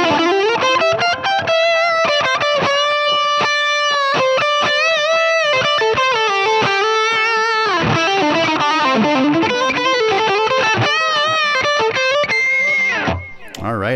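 Distorted electric guitar through a Line 6 Helix Derailed Ingrid amp model, a Trainwreck Express emulation, with chorus-like modulation and feedback delay, playing a continuous melodic line of sustained notes and quick runs, loud and alone, ending abruptly.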